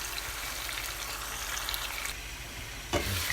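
Anchovies frying in a pan with a constant crackling sizzle up close, plus a brief stir or clatter near the end.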